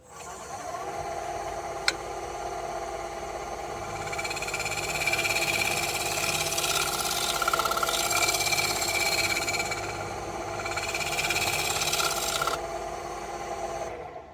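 A newly profiled negative rake scraper cuts a ridged hawthorn crotch bowl on a wood lathe, making a steady, close scraping rasp over the motor hum that swells louder midway, then eases back.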